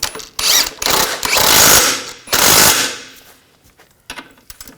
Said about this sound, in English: get the nut started, I'll snug it down.